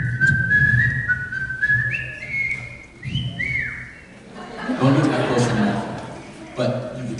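An audience in a concert hall whistles along to a melody, with several rising and sliding whistled lines in the first half, followed by a burst of crowd noise and laughter, all over a steady musical backing.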